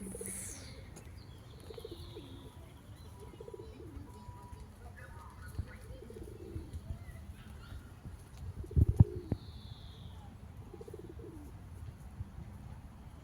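Soft pigeon cooing and low murmuring calls against a quiet outdoor background, with a brief clatter near the end.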